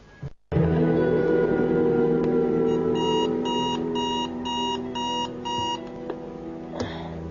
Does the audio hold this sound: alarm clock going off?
yes